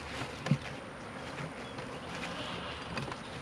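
Bees from a moved swarm hum faintly and continuously around a hive, a soft, steady buzz with no talking.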